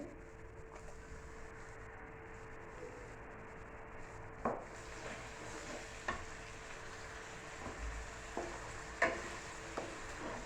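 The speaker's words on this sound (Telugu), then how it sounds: "ఇది కూడా పచ్చి వాసన పోయేంతవరకు కూడా ఆయిల్లో వేయించండి" Ground tomato and onion paste frying in hot oil for a cooking dish, a soft, steady sizzle with a few faint scraping stirs, close and quiet.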